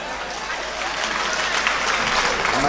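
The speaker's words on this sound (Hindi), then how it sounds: "भाई साहब आपकी तालियां कमजोर हैं।" Steady audience applause at a comedy mushaira in Bhiwandi, dense and close, holding at an even level throughout the short stretch, with crowd noise mixed in.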